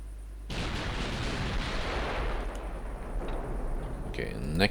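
Warship naval guns fire armor-piercing shells in a naval battle game, a sudden loud boom that rolls into a heavy, sustained rumble.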